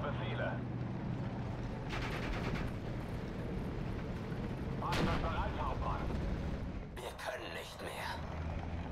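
Gunfire and artillery from a World War II tank battle in the strategy game Steel Division: Normandy 44, with rumbling blasts and scattered sharp shots under a continuous low battle din, a few louder bursts standing out.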